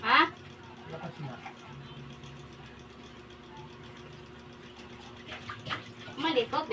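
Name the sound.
strong running water while bathing a puppy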